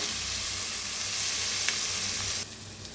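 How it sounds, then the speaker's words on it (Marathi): Tomato sizzling in a pan with browned onion for egg curry makes a steady, loud hiss with faint stirring that softens slightly near the end, and no voices are heard. "आता त्याच्यात टाकूया टमाटर। आता हलवून त्याला बी छान असं भाजून घेऊया"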